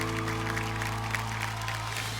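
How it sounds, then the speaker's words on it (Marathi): Studio audience applauding on a Marathi TV game show, a steady wash of clapping over a sustained background tone and music, loud and unbroken for the whole stretch. "एकदा जोरदार टाळ्या होऊन जाऊ देत."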